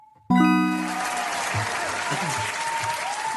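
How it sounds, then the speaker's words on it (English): A crowd bursts into loud applause after a brief musical sting, clapping sustained and dense throughout, with faint whoops rising over it. "Give him a huge round of applause as well."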